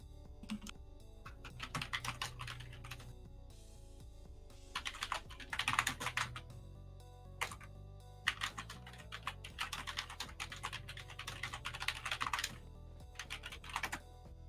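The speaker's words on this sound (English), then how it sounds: "Typing." Steady bursts of computer keyboard typing, close and continuous over a low background hum, with short pauses between runs of keystrokes.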